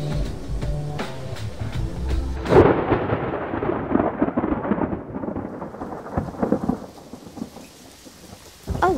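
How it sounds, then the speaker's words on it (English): Heavy rain pours steadily while a loud crack of thunder breaks in and rolls off into a long, fading rumble. "Oh no! It's raining."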